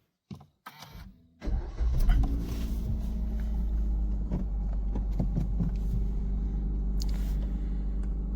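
A car's engine cranks briefly after a few faint clicks, catches, and settles into a steady low idle rumble that continues close and even to the end, with no talk.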